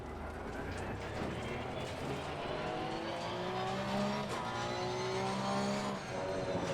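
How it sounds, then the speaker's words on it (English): A Porsche race car in the sim racing game Assetto Corsa Competizione drives with a steady, loud engine drone and rising and falling revs, with tire noise underneath, sustained throughout without talk. "So we're driving the Porsche."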